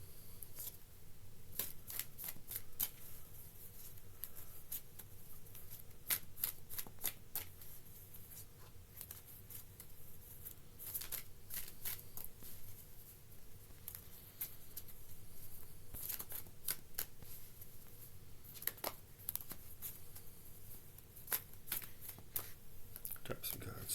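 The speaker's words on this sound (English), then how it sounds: "Okay, I'm gonna shuffle." Playing cards shuffled by hand in repeated quick riffling bursts, close and fairly quiet over a low steady background hum.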